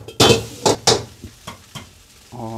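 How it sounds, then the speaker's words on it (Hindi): Garlic noodles being stir-fried on high flame in a pan with oil and browned garlic: a few sharp scraping and tossing strokes of a utensil against the pan, loud and close, with a faint sizzle between. "अब इसे हाई फ्लेम पे आपको मिक्स करते रहना है।"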